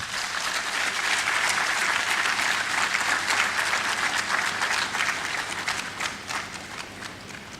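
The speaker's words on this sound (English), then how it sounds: "a warm round of applause for the chair of the summit and our host" Sustained applause from a conference audience at the opening of the Ghana Higher Education Summit, steady and fairly loud, with no voices over it.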